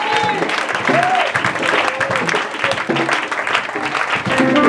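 A church congregation applauds and cheers in acclaim of Jesus during a worship service, dense continuous clapping mixed with voices and shouts, loud and close throughout.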